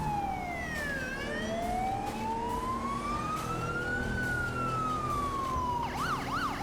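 Police sirens wail in the video game GTA 5 during an LSPDFR police mod chase in an unmarked NSW VF Commodore. Long rising and falling tones sweep slowly over engine and road noise, then switch to a fast yelp near the end.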